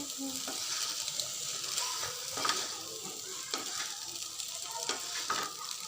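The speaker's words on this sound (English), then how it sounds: "I am going to mix it by fork" Veg street-style chowmein noodles tossed with a fork in a hot pan, giving a steady sizzle with soft scraping and stirring clicks that continue throughout at close range.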